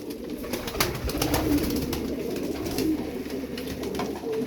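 Tumbler pigeons coo steadily in low, throaty rolls, several birds overlapping close by against a constant background hum, with no voices.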